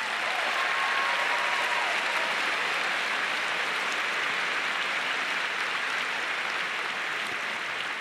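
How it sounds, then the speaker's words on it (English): A large audience at Liberty University applauds in a steady, sustained wash of clapping, fairly distant and even throughout, with no speech on top. "Would you give them a round of applause?"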